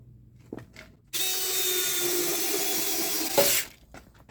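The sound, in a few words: drilling a hole for a tractor toolbox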